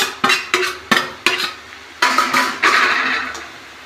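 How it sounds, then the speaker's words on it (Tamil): A spoon scrapes and clatters in a pan as fish puttu is stirred with ground coconut masala, a series of sharp, close strokes with soft sizzling between them and no talk. "இப்போ நம்ம அதை போட்டுடலாம் மீன் கூட போட்டு நல்லா கிளறி விடுங்க"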